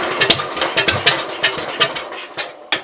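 A 1974 Case 220 garden tractor engine runs after a starter fault was fixed, a close, loud uneven chugging with irregular knocks and rattles.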